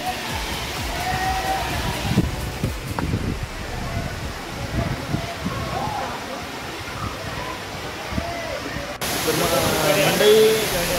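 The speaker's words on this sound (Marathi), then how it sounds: "नावनकोंडचा धबधबा ह्यो देवगडच्या आतमध्ये" Navankond waterfall in Devgad, set in rocky laterite terrain, pours as a steady broadband rush that holds throughout and swells slightly louder near the end, with someone talking over it.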